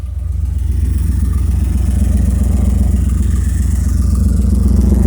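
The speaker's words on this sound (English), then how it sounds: "Runs like it's hot. It's got dual exhaust on it." A Chevy Tahoe truck with dual exhaust idles nearby, a steady low rumbling engine drone that holds even and continuous throughout with no voices.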